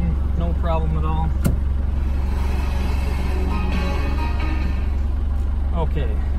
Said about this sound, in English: it starts up at the flip of a button, no problem at all